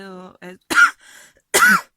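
A person talks briefly, then gives two sharp, close coughs separated by a short pause.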